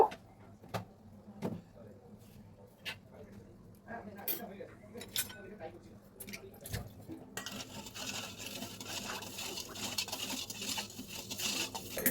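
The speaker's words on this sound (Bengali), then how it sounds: "চিনি আর নুনটা দিয়ে ভালো করে আমি জলটা মিশিয়ে নেব" A spoon stirs sugar and salt into water in a bowl, giving soft, irregular clinks and swishing taps against the container, fairly faint, with a steady hiss rising in the background near the end.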